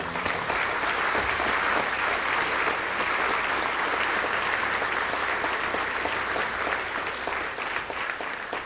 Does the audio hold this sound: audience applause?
yes